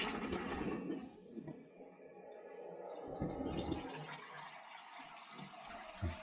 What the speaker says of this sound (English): Let's put the water on nice and slowly.